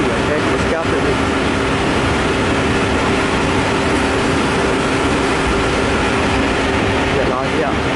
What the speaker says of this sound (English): Train, train on. Long one.